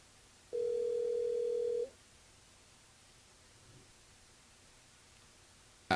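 A single telephone ring tone sounds on the line during a radio phone-in call, one steady buzzing tone of over a second, followed by quiet line hiss and a brief click at the end.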